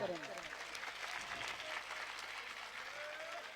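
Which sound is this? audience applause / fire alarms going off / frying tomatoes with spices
audience applause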